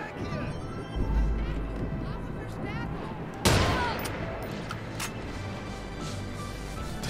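Gunfire from a weapon in Watch Dogs 2, with rapid bursts of shots, one sharp loud crack midway and further reports after it, over the game's background sounds.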